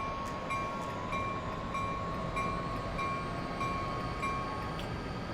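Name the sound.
Acela Express train passing in the game Train Simulator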